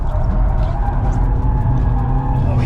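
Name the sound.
Super GT race car sliding on a test track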